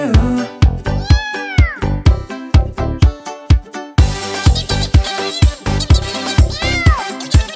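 Cartoon cat meows ring out inside a bouncy Portuguese children's finger-family song, with rising and falling sung meow calls over steady rhythmic percussion and music throughout.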